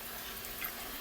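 Water pours steadily into a small pot for cooking grits, a soft, continuous splashing stream with nothing else around it.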